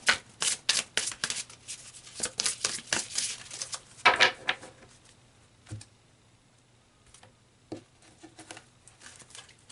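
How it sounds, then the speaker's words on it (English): Tarot cards shuffled in a quick rapid-fire riffle of papery flutters, then a slower handling as individual cards are slid out and laid down, close and fairly quiet with no talking. "let's pull some more cards to get some more insight"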